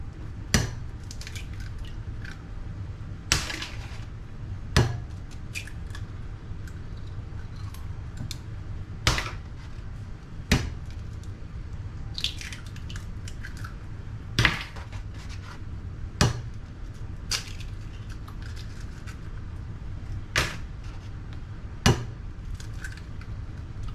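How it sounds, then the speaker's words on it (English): Eggs being cracked one after another into a bowl for a quiche, sharp sparse taps and cracks spaced a few seconds apart over a quiet background, about a dozen distinct hits. "Just crack them in the bowl"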